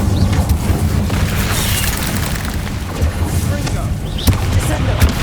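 Incendio fire spell in Hogwarts Legacy bursts and rumbles amid combat noise, a loud, dense roar with a few sharp whooshes and impacts near the end.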